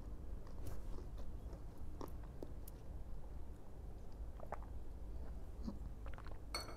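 Raw curry leaves being bitten and chewed close to the mouth, with soft crunching and wet mastication repeating irregularly and no talking.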